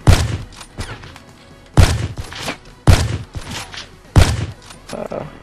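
Four bursts of video game gunfire come in quick succession, each a sharp loud onset with a short decaying tail, spaced about a second apart, with the shooting stopping as the weapon runs out of bullets.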